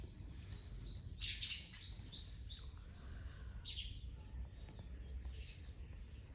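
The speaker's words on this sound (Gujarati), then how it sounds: "તો જો કેવા ચકલા નાય છે, ખાબોચિયામાં હો." Sparrows bathing in a cold puddle in a village, giving quick bright chirps and short tweeting bursts over a steady low outdoor rumble.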